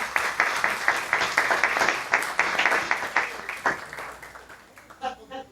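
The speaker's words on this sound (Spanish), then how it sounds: "un aplauso también para cada uno de ustedes por hacer parte" Audience applause at the close of a talk on open content and participation in the digital society, a dense crowd clapping steadily and fading toward the end, with a voice starting to speak as it dies down.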